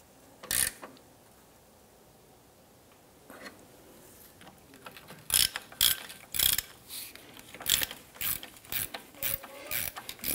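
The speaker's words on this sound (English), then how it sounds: "And let's go ahead and tighten that down." A ratchet wrench tightens a bolt on the lower engine torque strut mount of a 2005-2007 Ford Five Hundred, giving scattered sharp clicking bursts that grow more frequent toward the end, close and moderately loud with no talk.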